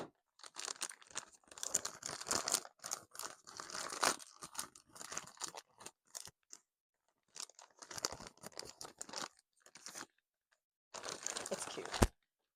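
A plastic mail package holding a t-shirt is sliced and torn open, with bursts of crinkling, tearing and rustling broken by short silences and a sharp snap at the end, close and quiet.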